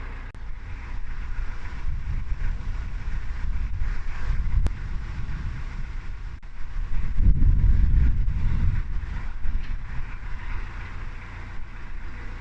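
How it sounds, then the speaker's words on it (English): Strong broadside wind buffeting a canal boat: continuous low roaring gusts and microphone wind rumble, swelling louder in the middle, with no voices. "we've got a really strong broadside wind today"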